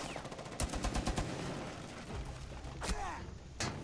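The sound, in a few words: machine gun fire in video game Rainbow Six Siege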